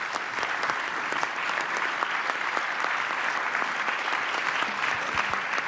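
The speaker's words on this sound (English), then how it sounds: "Let's give a great round of applause to our panel." Sustained audience applause for a panel at a forum session on Finland, the Black Sea and European security, a steady wash of many hands clapping at even loudness throughout, with no talk over it.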